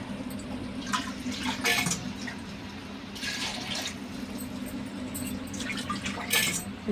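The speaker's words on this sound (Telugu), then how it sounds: "కలిపిన తర్వాత కొంచెం దీనిలో నీళ్ళు వేసుకోవాలి" Water splashes and trickles into a cooking pot of tripe curry in bursts over a steady low background hum, with several short pours spaced across the clip and no talking.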